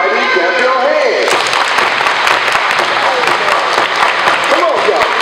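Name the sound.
children clapping their hands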